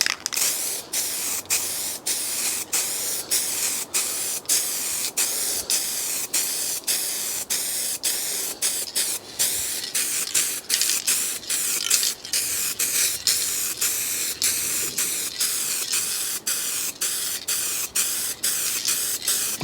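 Aerosol spray can laying a first coat of paint on a car under repair, a close, steady hiss broken into many short regular bursts, one after another with brief pauses, no talking.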